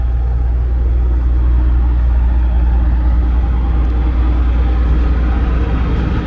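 A truck rumbles past on a Brooklyn street along 13th Avenue, a loud, steady low engine drone and road roar that fills the whole stretch without letup.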